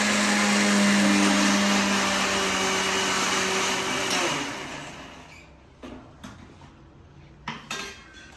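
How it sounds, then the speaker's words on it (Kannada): A mixer grinder whirs loudly and steadily for several seconds grinding biscuits into fine powder, winds down, then a few clinks and knocks of the jar follow. "ಅದನ್ನು ಫಸ್ಟ್ ನಾವು ಮಿಕ್ಸಿಲಿ ಹಾಕಿ ಗ್ರೈಂಡ್ ಮಾಡ್ಕೋಬೇಕು"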